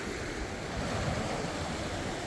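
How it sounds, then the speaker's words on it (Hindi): A fast-flowing mountain river in Kumrat Valley, its water running higher than the day before and cutting a new course, gives a loud, steady rushing roar that fills the scene without pause and carries no speech. "और दरिया भी कल से ज़्यादा तेज़ है, और दरिया डाइवर्ट हुआ इधर।"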